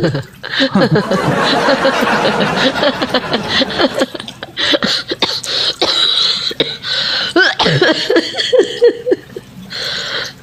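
A person coughs and clears their throat several times in quick succession close by, with a few chuckles from others.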